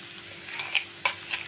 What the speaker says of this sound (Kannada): ಇವಾಗ ನೋಡಿ ಯಾವಾಗಲೇ ನಾನು ರುಬ್ಬಿಟ್ಕೊಂಡಿದ್ನಲ್ಲ ಹಸಿಮೆಣ್ಸಿನ್ಕಾಯಿ ಕಡಲೆ ಬೀಜ ಕೊತ್ತಂಬರಿ ಸೊಪ್ಪು ಕರಿಬೇವು ಸೊಪ್ಪು ಎಲ್ಲ ಇವಾಗ ನಾನು ಅದರಲ್ಲಿ ಹಾಕ್ತಾಯಿದ್ದೀನಿ